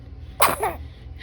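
One quick, close sneeze, a short double-puffed burst over a low steady room hum, with nothing else around it.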